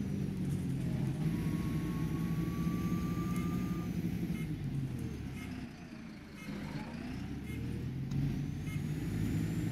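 An Optare Solo bus drives in the OMSI 2 game on a local route, a steady engine drone with a faint whine and a brief beep, while someone talks over it.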